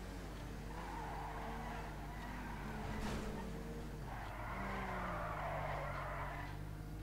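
A car drifting in GTA Online, tires skidding and squealing in long sweeps over a steady engine drone, moderately loud and unbroken, with no talk over it.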